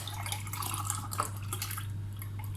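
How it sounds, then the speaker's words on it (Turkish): Milk is poured into a pot of potato soup, a faint, steady liquid trickle with soft drips over a low constant hum. "bir bardak süt koyacağım."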